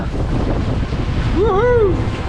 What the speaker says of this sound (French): on a du 16-17 nœuds de vent. Oh, c'est le fun d'avoir du vent!